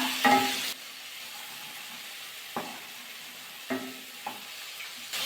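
Flat beans curry sautéing in a pan over low gas, with a sharp stir at the start and a few soft scraping stirs later over a faint steady sizzle.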